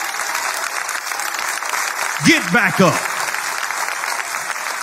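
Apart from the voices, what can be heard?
congregation clapping hands in church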